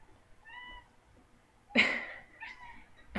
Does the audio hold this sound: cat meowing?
yes